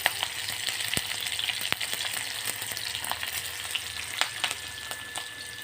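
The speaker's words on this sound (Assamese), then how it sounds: "তেল দিলোঁ আৰু এতিয়া পিঁয়াজ ৰচুনখিনি দি দিছোঁ" Sliced onion and garlic sizzle in hot oil in a wok, a quiet, steady frying hiss scattered with sharp crackles and pops, with no voices.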